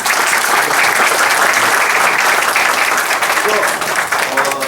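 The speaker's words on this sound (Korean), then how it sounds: "박수로 위로받습니다" Sustained, dense applause from an audience at a 2018 peace-themed memorial performance honoring bereaved families, loud and continuous throughout with no break.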